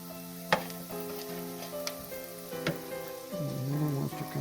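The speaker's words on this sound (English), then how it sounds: "I'm going to dump that in right now and go on with the sauteing of the vegetables." Vegetables with chili powder and salt sautéing in a pan, a moderate sizzle broken by a few sharp utensil clicks and clanks, growing busier near the end, with no talk.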